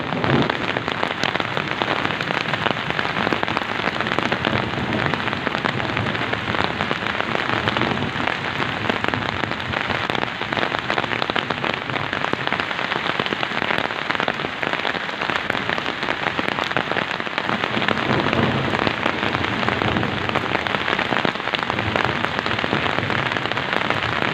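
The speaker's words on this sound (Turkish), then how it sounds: "şiddetli bir şekilde yağmur devam ediyor şu an köyümüzde" Heavy rain mixed with hail pours down on a village in a steady, dense, loud roar that never lets up, with no voices.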